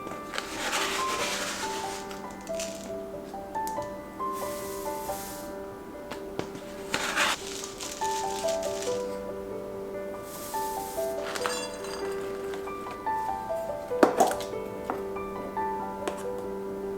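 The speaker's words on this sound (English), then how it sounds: "In a bowl, mix 3 cups of oats with half a cup of coconut and 3 tablespoons" Oats, coconut and cocoa powder being mixed in a bowl, a steady dry rubbing and scraping of spoon through the mixture, close and soft with occasional knocks against the bowl, light background music and no talking.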